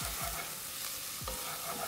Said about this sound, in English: soon as that curry hits the pan, it's so good